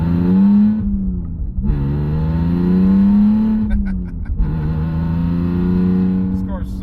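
A BMW E46 330i fitted with an ESS twin-screw supercharger drones loudly from inside the cabin, rising and falling through several revs with a gear change between pulls, heard closely without talk.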